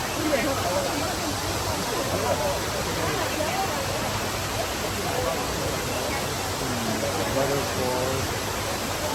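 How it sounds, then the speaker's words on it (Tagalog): A waterfall at Shifen, Taiwan, roars as a broad steady rush of falling water, with voices of people talking faintly over it at times. "Waterfalls."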